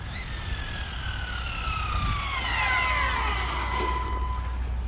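Quantum Flux R 4s RC truck's electric motor held at full throttle, a steady high whine that sweeps down and back up in pitch for several seconds over faint background noise, with no talking.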